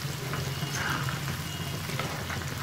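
Garlic and mustard seeds fry in oil over a low flame as a tempering for dry tomato pickle, giving a soft, steady crackling sizzle that stays close and even, with no voices.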